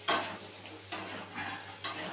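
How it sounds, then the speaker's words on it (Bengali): Baby potatoes fry in a pan over a lowered gas flame for jeera aloo, spiced with a little red chilli powder: a close, continuous sizzle cut by three sharp scraping stirs at roughly even intervals. "একটুখানি লাল লাল করেই আমি ভাজছি"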